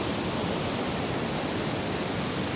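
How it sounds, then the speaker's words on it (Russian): A mountain river rushes past at Tajikistan's Seven Lakes, a dense, even roar of flowing water heard close up, continuous and unbroken, with no voices. "это звук речки, шуршание воды"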